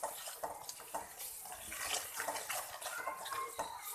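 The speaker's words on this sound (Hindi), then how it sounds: "पानी का छींटा लगाएंगे बिस्मिल्लाह" Water splashed into sizzling tomato and spice masala for chicken chana dal curry, giving a faint, wet sputtering and crackle with small bursts and light clinks of the pan.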